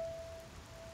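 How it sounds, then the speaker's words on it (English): Steady soft rain falls in the video game Laozi and the Mountain, a continuous faint hiss with a thin steady tone running through it, no voices. "it's also the weather is raining now"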